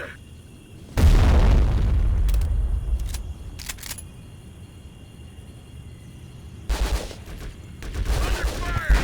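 Gunfire and explosions from the video game Conflict: Global Storm, a loud sustained burst starting after a second, then scattered sharp shots and a second heavy volley near the end.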